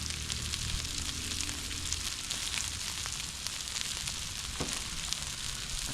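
Waffle House-style smothered and covered hash browns with cheese and onions fry on a Blackstone griddle, giving a dense, steady sizzle with faint crackles and a brief scrape near the end.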